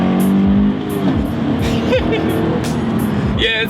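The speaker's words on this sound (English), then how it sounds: "Let me do a quick little acceleration here." A 2016 Scion FR-S with a six-speed manual accelerating, loud and close from inside the cabin, its engine note climbing in pitch, then dropping briefly at a gear change before rising again, with scattered clicks and knocks.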